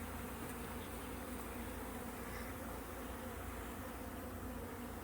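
Honey bees from a newly installed package hive swarm close by in a steady, dense buzzing drone that stays even and uninterrupted throughout, with no voices.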